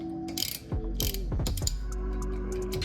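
Ratchet wrench clicking as it loosens a 14 mm brake caliper bracket bolt on a Scion FR-S, with close, loud bursts of rapid ratcheting and several quick swings across a steady mechanical background.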